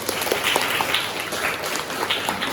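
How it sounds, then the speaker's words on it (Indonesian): A classroom group claps together during a school guidance lesson on learning styles, a steady, fairly loud patter of many hands that continues without a break. "Oke, luar biasa, tepuk tangan."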